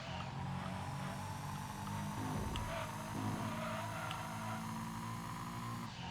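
Mercury Cougar muscle car in a racing video game powering through the final corner, a steady loud engine drone with a brief tire squeal midway and no voices.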